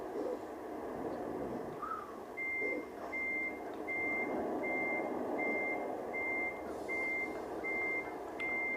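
Reversing beeps from a truck in American Truck Simulator, a steady series of evenly spaced electronic beeps over a low engine rumble, moderately faint and regular.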